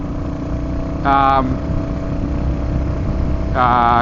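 Steady engine drone with road rumble and wind noise from a motorcycle cruising at speed, heard from a GoPro mounted on the bike, with a voice speaking over it in two short bursts.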